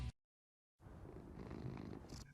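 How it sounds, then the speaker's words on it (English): A cat purrs in the Saints Row video game (2022), a steady close rumbling purr that rolls on for about a second and a half after a short silence, heard alone. "stop showing this demon mutant cat"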